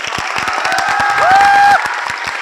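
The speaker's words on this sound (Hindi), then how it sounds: "विजय सर के लिए जोरदार तालियां यार" Students applaud their teacher at an awards ceremony, loud sharp clapping with some cheering, while a rising, sustained whistle-like tone cuts through the middle.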